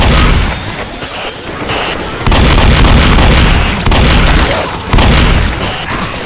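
Gunfire in the zombie shooter Left 4 Dead 2 on the Dark Carnival campaign: loud, dense, close bursts of booming shots that pound on almost without pause for the whole stretch.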